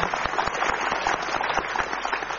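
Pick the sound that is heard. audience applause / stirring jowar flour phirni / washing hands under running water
audience applause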